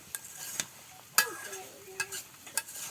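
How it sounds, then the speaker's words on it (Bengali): Fried fish being sautéed in a spice paste with tomato, a quiet soft sizzle under a few sharp clicks and scrapes of a spatula or utensil against the pan, close by and sparse. "এবার ভেজে রাখা মাছও দিয়ে দিল মাছগুলোকে একটু কষিয়ে নিচ্ছে"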